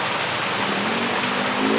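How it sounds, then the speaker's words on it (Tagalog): Heavy rain from Typhoon Ompong pours down in a dense, unbroken roar, loud and close, with no voices and no pauses. "Lakas ng ulan."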